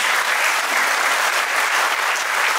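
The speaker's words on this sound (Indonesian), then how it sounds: "Tepuk tangan dan buat Anda." Dense, steady audience applause fills a talk or seminar hall, many hands clapping at once with no break for the full few seconds.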